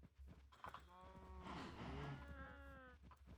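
Blocky cows in the GregTech New Horizons Minecraft modpack let out a low, drawn-out moo with a rising tone, one clear call lasting a couple of seconds over faint background hum.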